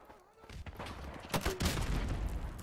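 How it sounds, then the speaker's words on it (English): Noob tube grenade launcher shots in Call of Duty 4: Remastered, sharp bursts over a busy gunfire-filled battle, with explosive impacts around the middle of a short stretch of constant combat noise. "Precision shooting with the noob tube."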